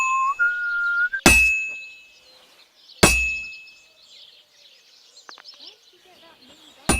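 Two sharp metallic clangs of a blacksmith's hammer striking a workpiece on an anvil in Kingdom Come: Deliverance II ring out loud and separate, each decaying into a ringing tail amid chirping birds and soft whistled tones.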